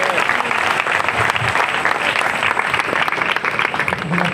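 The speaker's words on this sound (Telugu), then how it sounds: "చప్పట్లు కొడుతూ ప్రభువుని గణపరుద్దాం" A congregation at a church service claps in praise, dense continuous applause from a large crowd filling the space, with voices faintly mixed underneath.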